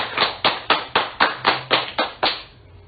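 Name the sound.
wedding guests clapping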